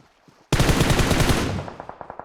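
Sudden burst of rapid automatic gunfire in PUBG Mobile, loud and sustained for about a second, then scattered single shots trailing off, with faint rumble before it starts.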